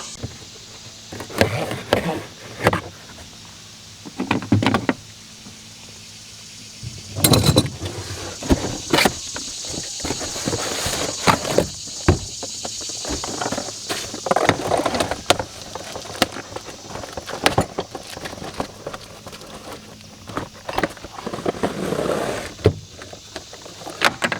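Cardboard box holding a push-button-ignition propane torch being opened and unpacked, with repeated close crinkling, rustling and knocking of packaging in irregular bursts, no speech.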